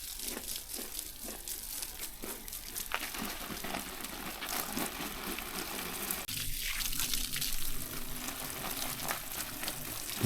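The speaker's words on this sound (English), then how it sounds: "We're gonna start watering now." Water from a hose patters and trickles onto garden soil around carrot plants, a steady wet hiss with crackling splashes, soft and continuous, with no voices.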